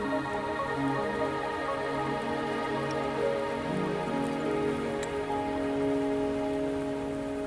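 Steady rain falls in Wuthering Waves, a constant wash of drops spattering on surfaces alongside sustained tonal music, unbroken and fairly loud throughout.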